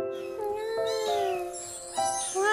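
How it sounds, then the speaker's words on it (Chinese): A rescued stray kitten meows in long, rising and falling cries, fairly close and clear against a quiet indoor background, with one short break between calls. "大黄在里面看着小猫猫"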